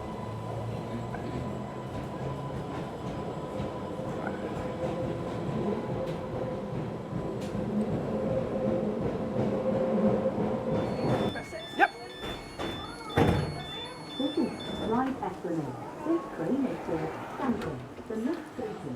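A former London Underground District line tube train at Ryde Pier Head gives a steady rumbling run that ends in a clunk, then doors and station noises under voices talking nearby.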